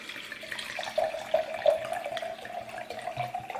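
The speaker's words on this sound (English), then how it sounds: "So I'm gonna pour a little glass." Wine is poured from a bottle into a large cup in a steady close trickle with small gurgles and splashes, and no talking over it.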